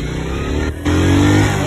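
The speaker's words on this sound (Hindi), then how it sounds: "125 वाले यार आज अपने बाइक पे बड़े अच्छे से बाहर जा रहे हैं" A 125cc motorcycle engine idles with a steady mid-pitched hum, then dips briefly before revving up louder and holding a rough, sustained drone close by.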